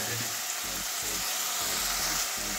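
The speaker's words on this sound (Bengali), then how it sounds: "এবারে মশলার সঙ্গে এগুলোকে কষিয়ে নেব ভালো করে।" Prawns sautéing with spices in a pan give a loud, close, unbroken sizzle that stays steady throughout.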